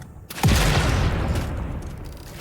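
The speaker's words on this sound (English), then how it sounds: "The explosion is so loud." An explosion in the video game Satisfactory bursts suddenly with a loud, deep boom after a brief click, followed by a long rumbling roar that slowly fades.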